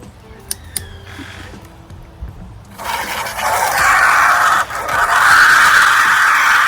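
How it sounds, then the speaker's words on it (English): Tap water runs into an empty jug to rinse it, a rushing stream that starts after a few quiet seconds of faint clicks and handling noises and then grows louder and fuller as the jug fills. "I'm adding some water into the empty jug just to rinse off some of"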